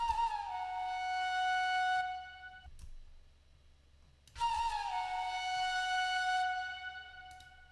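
Dry flute melody in a Japanese-style trap beat, two sustained phrases with a short gap between them, each opening with a bent attack and holding steady over a quiet low bass pulse.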